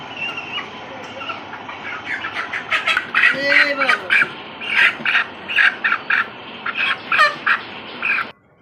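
Chickens on a poultry farm give repeated loud, close squawks and clucks in irregular bursts, with a steady low background hum throughout.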